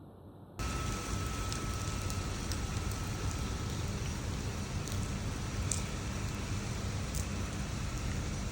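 Rain falls steadily on a cold, windy day, a dense, continuous hiss of drops with a few louder nearby splats, starting abruptly and staying even throughout.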